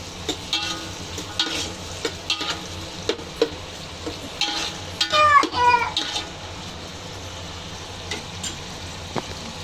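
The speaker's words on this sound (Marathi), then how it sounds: "एक चम्मच मीठ टाकते, म्हणजे आपला कांदा चांगला फ्राय होईल।" Onions frying in oil in a pan for chicken pulao biryani, a low continuous sizzle broken by scraping stirs and a brief clatter midway, with someone talking intermittently over it.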